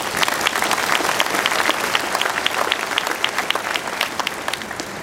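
A keynote conference audience applauds to congratulate MATLAB, a steady, dense burst of clapping from a large crowd that holds at full strength throughout, with no talking over it.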